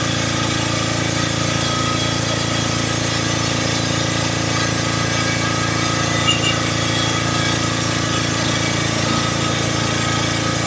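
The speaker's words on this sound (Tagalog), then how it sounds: "Langas kayo ang makina." A loud engine-driven machine runs continuously nearby, a steady rattling drone that stays constant throughout.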